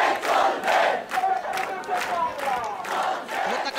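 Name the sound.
crowd of students and parents chanting protest slogans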